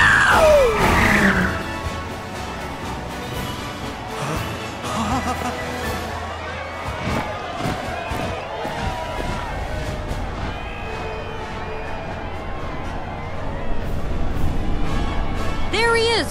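Cheering crowd at a parade march in Final Fantasy VII Rebirth, a dense roar of voices and screams, loudest at the start and end, with an announcer talking over it and music playing along.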